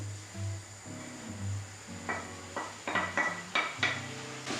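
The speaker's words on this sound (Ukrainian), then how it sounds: "Продовжую тушкувати. Тим часом, поки тушкуються гриби з цибулею" Mushrooms and onion stew in a pan while a utensil clinks and scrapes against it in a string of close, sharp knocks over a soft background simmer.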